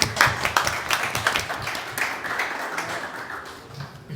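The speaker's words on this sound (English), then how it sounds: "Please give them a big round of applause." Conference audience applause for a panel of speakers, a moderate round of clapping with a few sharper individual claps standing out near the start, gradually thinning as it continues.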